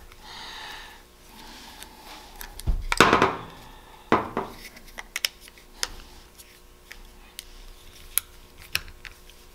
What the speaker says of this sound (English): I need a screwdriver. Let's open that up.